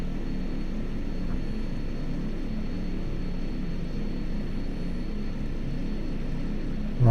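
A propeller aircraft engine at high idle in the flight simulator X-Plane 11, sitting before a departure from Plymouth: a steady, loud, low droning rumble that holds level throughout.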